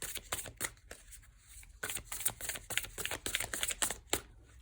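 Tarot cards being shuffled by hand, a close, quiet run of rapid riffling flicks and soft slaps in irregular bursts, with a short pause before the shuffling resumes.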